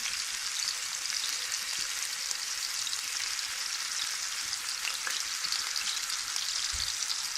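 Gola kabab frying in a pan of oil over low heat, giving a steady, dense sizzle that holds evenly from start to finish with no talking.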